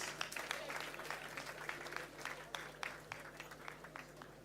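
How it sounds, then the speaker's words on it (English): Moderate applause from an audience at a pull-out parade for an outgoing Comptroller General, steady clapping with scattered sharp claps over a low hum, heard at some distance. "A better round of applause for the outgoing CG,"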